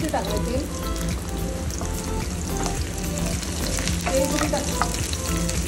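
Green chillies and cumin seeds frying in hot oil for dosa chutney, giving a busy, crackling sizzle with scattered pops and a few stirring scrapes throughout, with no voices.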